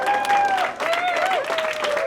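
At an airport, a crowd applauds and cheers for Honor Flight veterans. Clapping and whistle-like tones carry steadily under scattered voices.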